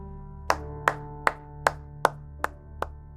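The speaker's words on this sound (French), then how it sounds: "des applaudissements isolés se font entendre dans la salle" Isolated applause in a lecture hall: seven sharp, evenly spaced claps ring out alone over a low steady hum, each a crisp single hit with a short decay.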